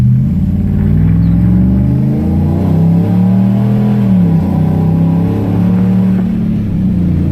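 A 2015 Ram 1500 with aftermarket headers revving as it drives, a loud close deep engine note rising and falling through the throttle, with no talk over it.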